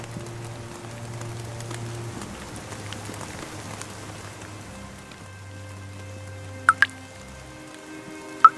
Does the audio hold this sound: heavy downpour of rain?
yes